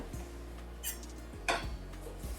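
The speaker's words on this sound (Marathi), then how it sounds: "पुन्हा थोडस आपण ते हलवून घेऊया" Carrot halwa is stirred in a pan, with a few light scraping and clinking strokes of the spoon against the metal over a steady low hum.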